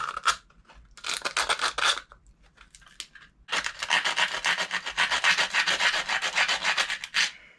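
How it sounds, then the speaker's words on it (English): A shotgun part is sanded with heavy duty sandpaper in close, rasping strokes, first in short bursts separated by pauses, then in a long, steady run of rhythmic back-and-forth scraping, alone. "It's heavy duty sandpaper, but what I'm gonna do is just shave it down"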